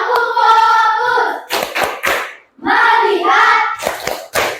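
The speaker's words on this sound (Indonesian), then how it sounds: "Tepuk tangan dulu." An Indonesian classroom doing call-and-response clapping routines, with sharp bursts of hand claps alternating with children's sung chanting. The claps come in quick clustered groups between the voices.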